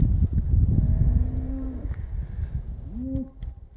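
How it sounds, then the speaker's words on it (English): Cattle on a ranch moo twice, long low calls a couple of seconds apart, heard over a steady rumbling outdoor background with no talking. "These are some healthy cows"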